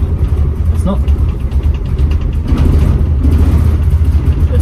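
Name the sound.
project car engine running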